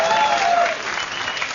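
Television studio audience at a late-night comedy monologue breaking into loud, steady applause and clapping that fills the whole moment, with a faint voice underneath.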